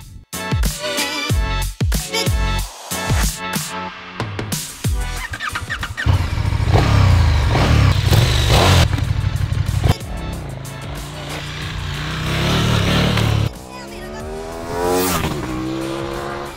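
A KTM 1290 Super Duke R being ridden on streets in England, its engine rising and falling through hard revs with strong, continuous loud roar and shifts, no talk.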